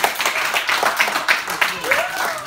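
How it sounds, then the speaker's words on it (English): Audience applause after a yellow belt martial arts grading, moderately loud clapping with rhythmic surges as a voice talks over it. "let's just give them all a big round of applause"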